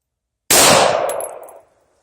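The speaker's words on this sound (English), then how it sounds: "Shooting into a rock." A single loud gunshot strikes a rock at an outdoor gun range, a sharp close crack with a ringing, clanging ricochet that trails off over about a second, then silence.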